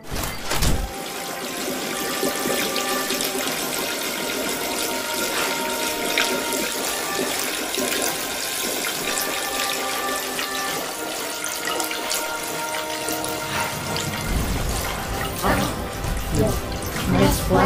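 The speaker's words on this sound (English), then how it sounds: "I wash my hands with soap." Tap water runs steadily into a sink for a long stretch while hands are washed with soap, a continuous close splashing hiss with a few brief voices near the start and end.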